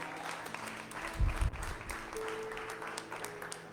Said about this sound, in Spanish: No, hombre, con ese aplauso.